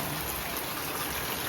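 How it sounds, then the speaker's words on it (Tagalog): Rain falls as a steady, even patter and hiss, continuous and fairly close, with no other sounds and no voices over the short stretch. "it's raining"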